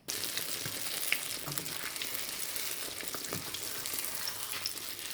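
Hand-shaped rings of semolina sfenj dough fry in a pan of hot oil with a steady, dense sizzle and crackle that runs evenly throughout at moderate loudness.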